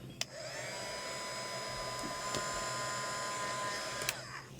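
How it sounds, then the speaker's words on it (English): Steady whirring blower noise runs throughout, a hair dryer drying a watercolor painting, droning at constant level with a couple of faint clicks. "You can use a hair dryer or a heat tool to speed it up."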